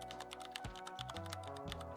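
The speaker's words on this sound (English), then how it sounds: "Then I am typing." Computer keyboard keys clicking in a steady, quick stream of close taps while typing into Google Docs, quiet and alone with no voices.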